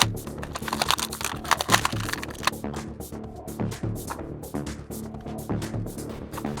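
A Masters of the Universe Origins Despara action figure box is opened close by, with a run of crinkling, crackling plastic and cardboard clicks and rustles in quick irregular bursts, with no talk.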